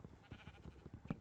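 Repeated short sheep bleats from Minecraft, a rhythmic series of about six nasal calls with a louder final bleat, heard close and clear without talk.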